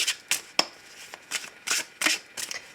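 Tarot cards shuffled for a love reading: a quick series of crisp riffling bursts, close and moderately loud, with brief pauses between them and no voices.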